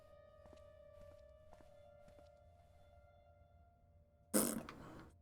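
After a few soft, spaced footsteps, a person makes one loud, spluttering fart noise with their mouth, near and abrupt, imitating the sound.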